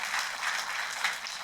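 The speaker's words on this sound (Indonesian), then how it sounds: "Tepuk tangannya pula yang paling meriah buat Tuhan kita" A church congregation applauds: dense, steady clapping from many hands fills the room at moderate volume, without pause and without talk.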